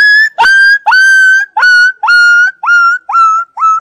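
A voice imitates a small dog's yapping: eight short, high, whistly barks in a steady rhythm, close and fairly loud, with no other sound.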